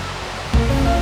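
Rushing water from a waterfall on a forest trail in Chae Son, Thailand, a steady broadband roar that swells louder halfway through, with no talk.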